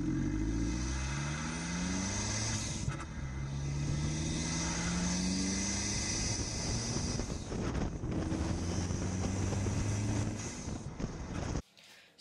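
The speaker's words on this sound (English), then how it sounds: "just another thing about the intake sort of air induction kit noises, he is starting to get a bit of turbo flutter" An Abarth hatchback, newly remapped and fitted with an air induction kit, drives with a loud intake roar and rising engine tones under heavy wind buffeting, ending in an abrupt cut-off.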